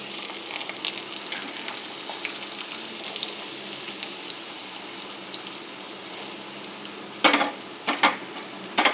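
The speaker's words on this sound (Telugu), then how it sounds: "ఉల్లిపాయ ముక్కలు వేసుకుని బాగా వేయించుకోవాలి" Onion pieces frying in hot oil in a pan, with a steady close sizzle throughout and a few sharper clatters and bursts near the end.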